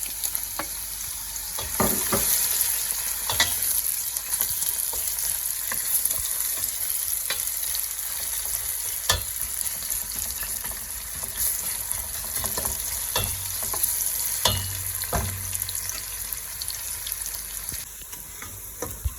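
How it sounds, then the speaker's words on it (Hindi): Onions brown in hot oil for achari chicken, a steady close sizzle and crackle with occasional scrapes and clicks of stirring, running without speech. "ये तो नाज़रीन हमारा तेल गर्म हो चुका है। अब हम प्याज को हल्का सा ब्राउन करेंगे।"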